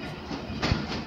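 Thal Express passenger train pulling into Sanawa station, a steady rumble of rolling carriages with a soft clank of wheels over rail joints, close by and continuous.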